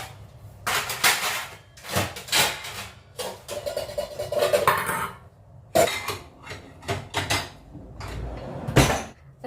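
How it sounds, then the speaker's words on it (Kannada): Scattered clinks and clatters of dishes, cutlery and glassware being unloaded from a dishwasher and set down, with occasional cupboard knocks and pauses between. "ಡಿಶ್ ವಾಷರಿಂದ ಪಾತ್ರೆಗಳನ್ನು ಜೋಡಿಸಿದಾಯ್ತು"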